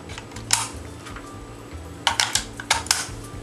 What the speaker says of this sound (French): Vous devez seulement ouvrir le couvercle de piles et insérer deux piles AA